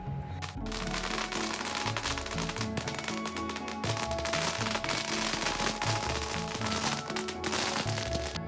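A 10,000-cracker firecracker string bursts for Diwali in a dense, continuous barrage of sharp cracks and pops, loud and sustained from start to finish with no pauses.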